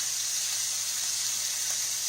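Pork loin searing in a hot pan, giving a steady, even sizzle and hiss that holds without a break and with no talking.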